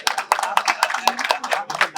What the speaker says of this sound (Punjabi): ਤਾੜੀ ਮਾਰ ਦਿਓ